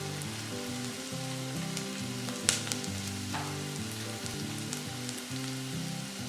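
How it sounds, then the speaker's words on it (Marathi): Cashew vegetable with Malvani masala and salt sizzles and fries steadily in a pan, a continuous close crackle with one brief louder clatter partway through. "हे सगळं परतून घ्यायचं आहे आपल्याला"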